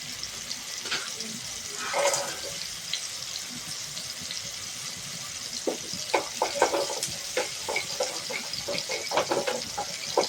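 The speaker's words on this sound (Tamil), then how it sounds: "கொஞ்சம் தண்ணி ஊற்றி தேங்காய் பால் எடுத்து வச்சுக்கிறேன்" Water is poured into grated coconut to press out coconut milk for a Kerala-style jackfruit payasam, giving a soft trickling, splashing sound with small clinks and squelches in a quiet kitchen.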